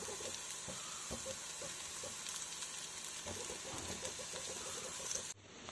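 Onions sauté in a pan with salt and turmeric, giving a faint, steady sizzle with light stirring clicks that drops away abruptly near the end.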